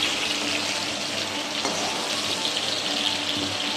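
Raw banana pieces fry with potatoes in hot oil for a Bengali hilsa fish curry, a steady, close hiss and sizzle that runs unbroken throughout.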